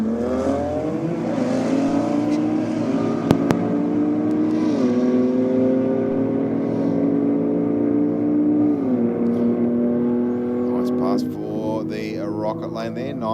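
Drag race car, a BMW long roof, running down the strip at a Sydney Dragway competition night: a loud, steady engine roar climbing through several gear changes, sustained at close range before easing off near the end.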